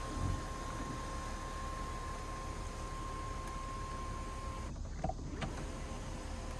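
An electric motor whirs steadily and evenly for several seconds inside a 2024 Porsche Cayenne as the power sunshade slides open, then stops with a soft click.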